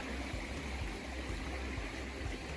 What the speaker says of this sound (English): And the wee burn trickling through there.